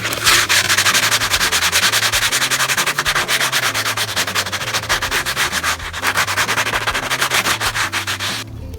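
Rhythmic, scratchy rubbing of 60-grit sandpaper worked by hand over a carved wood surface, steady back-and-forth strokes close up with a brief pause near the middle, no talking.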